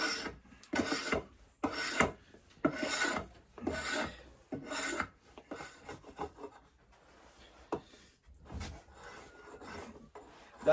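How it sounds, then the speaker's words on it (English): A blade scraping down a wooden stick, a series of about eight rhythmic rasping strokes, close and distinct, followed by quieter, irregular scrapes with no talking. "So you take this straight up and you can kind of scrape with it."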